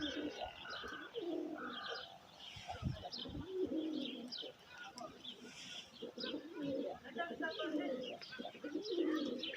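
Rooftop pigeons coo in soft repeated phrases mixed with light chirps, near and moderately loud, over a low outdoor hum.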